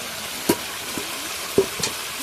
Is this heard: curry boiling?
yes